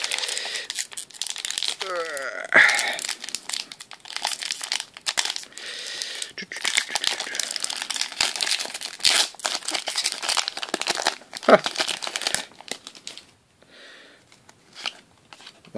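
Foil wrappers of Pokémon card booster packs being torn open and crinkled, close and loud, with bursts of ripping and rustling scattered throughout and a person talking intermittently over the handling.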